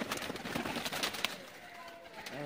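Teddy pigeons kept for sale in a loft, soft low cooing and fluttery movement close by, with someone talking over it throughout.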